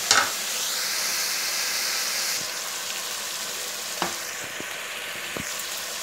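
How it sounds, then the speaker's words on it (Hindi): Chicken fries with tomatoes in a pan for kachnar, giving a constant loud sizzle with a few soft stirring knocks and scrapes partway through. "ये हमारी टमाटरों के साथ अच्छे से चिकन की भुनाई हो रही है"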